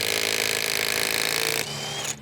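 A Milwaukee M12 FUEL Stubby impact wrench in power mode 3, fitted with a fat socket, hammers at a bolt in a loud, rapid, continuous rattle, then breaks it free and spins briefly before stopping, heard up close.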